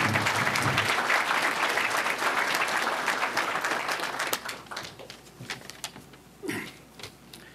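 Audience applause fills a large arena-style building at a public transportation announcement event, dense and sustained for several seconds before thinning into scattered claps and fading.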